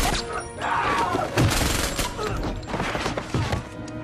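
Loud, dense gunfire and crashing impacts from the action movie Punisher: War Zone, a near-continuous barrage of shots and thuds with some voices mixed in.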